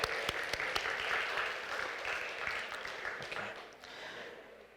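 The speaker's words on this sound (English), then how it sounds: "Let's give them a round of applause." Audience applause at a youth leadership program event, a sustained crowd clapping at moderate distance for the whole stretch, with a few sharper claps near the start and a faint voice underneath.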